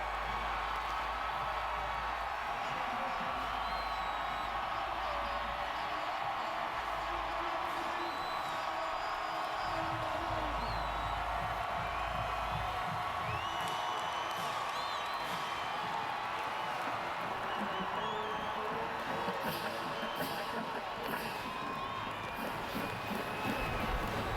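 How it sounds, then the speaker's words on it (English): A sellout stadium crowd at a Baylor Bears vs Oklahoma State Cowboys football game roars and whoops as the Cowboys run onto the field, a steady distant wash of cheering with a faint voice underneath. "Sellout crowd here"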